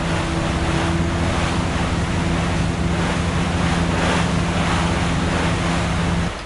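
Steady surging water and waves in the Resident Evil 4 video game, a continuous broad wash with a low droning hum underneath, even and fairly loud throughout with no voices.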